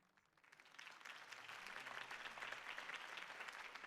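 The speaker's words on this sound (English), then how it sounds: "If only Mr. Wayne, my campaign's largest backer, could have heard that applause" Crowd applause after a campaign speech in the Batman Telltale video game, swelling from a quiet start into a sustained, even roar of clapping that holds for several seconds without talk.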